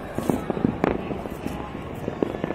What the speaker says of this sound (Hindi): आतिशबाजी का आनंद लिया जाता है।